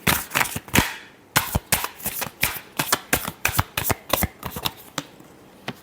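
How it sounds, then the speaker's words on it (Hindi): A deck of tarot cards is shuffled in quick repeated riffles and snaps, a steady run of crisp close papery bursts played alone with no talking. "Last shuffle."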